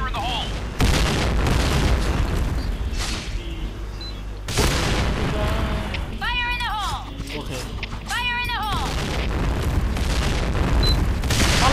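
Booming explosions and gunfire blasts in a first-person shooter game come in bursts, loud and close, with electronic whooping effects layered over the din.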